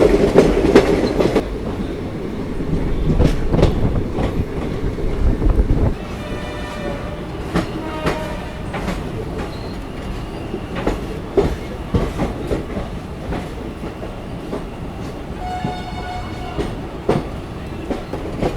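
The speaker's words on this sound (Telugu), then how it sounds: "కాచిగూడ నుండి చెంగల్పట్టు వచ్చే ఎక్స్ప్రెస్ కూడా వచ్చేసింది" The Kacheguda–Chengalpattu express rolls past with a loud rumbling roar that gradually fades, leaving repeated clickety-clack wheel beats over the rails and a steady hum.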